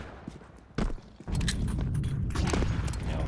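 Gunfire and a frag grenade in Counter-Strike during a PGL Bucharest 2025 semifinal, heard as a sharp burst followed by dense, loud rapid shots and blasts that keep going to the end, with no talk over them.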